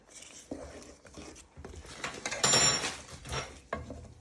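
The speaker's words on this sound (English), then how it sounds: "And you want to stir that in." Sugar being stirred into a black bean sauce for beef in a pan, heard as a run of scraping and clinking strokes from a utensil against cookware, uneven and close, with no voices.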